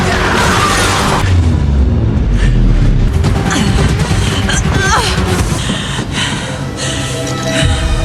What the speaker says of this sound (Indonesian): Gret melemparkan granat sehingga dirinya bisa lolos dari sana